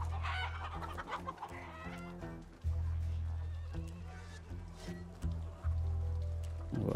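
Chickens cluck repeatedly in the Western stealth game Desperados III, alongside a horse-like whinny and steady low background music, fairly close and busy throughout.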